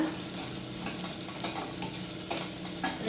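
Onions roasting in a pan until browned, a steady close sizzle with occasional stirring scrapes and clicks, no voices.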